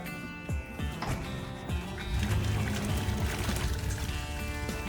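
Water pouring down a newly built rock waterfall, a steady close splashing and trickling rush that swells slightly, with faint movement noises mixed in.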